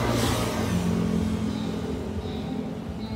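A 2007 Yamaha Exciter motorcycle with a Thai-built engine and stock exhaust, its header pipe replaced, runs close and loud, a steady rumbling engine note held throughout with slight swells like light revving.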